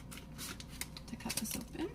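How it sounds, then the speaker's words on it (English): Crisp snipping and crinkling of kitchen scissors cutting open food packaging, several short cuts close by, with faint voice underneath. "I'm going to start with using my Epicure scissors"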